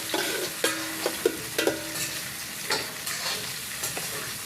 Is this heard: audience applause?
no